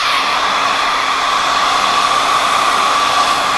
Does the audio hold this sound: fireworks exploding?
no